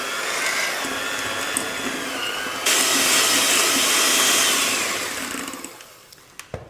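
Electric mixer beating eggs and a whole tub of mascarpone for a no-bake pineapple tiramisu, a steady whirring drone that grows louder partway through, then fades out near the end with a few light clinks.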